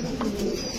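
Fancy pigeons, among them beauty, king and pouter breeds kept for sale, give a brief, steady low coo close by with no talking.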